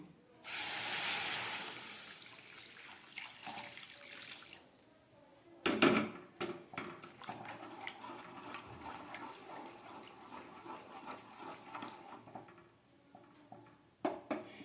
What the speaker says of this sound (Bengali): এবার এই ডালের মধ্যে আমি জলটা ঢেলে দিচ্ছি।